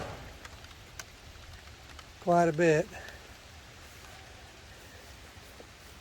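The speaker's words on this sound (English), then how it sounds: "I should have grabbed an umbrella because it's still raining" Steady rain falling outdoors near a tractor wagon by a chicken area makes a continuous soft hiss. A person briefly speaks over it.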